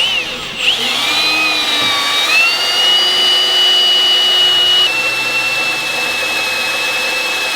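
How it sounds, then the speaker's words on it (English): A power drill boring holes for 2.5-inch Rough Country lift kit blocks on a 2019 Dodge Ram 2500 Cummins truck, running steadily and loud with a shifting whine for several seconds, no talk. "I'm just drilling some holes for the blocks to mount to"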